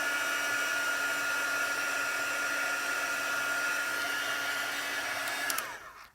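Steady, loud blowing hiss of a heat tool melting embossing powder for heat embossing, running unbroken at close range before winding down and stopping near the end.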